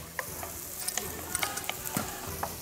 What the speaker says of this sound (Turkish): Şimdi baharatlarla kavuruyorum.